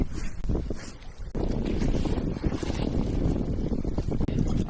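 Strong wind buffets the microphone aboard a small fishing boat at sea, a loud continuous roar with gusty swells and no talking.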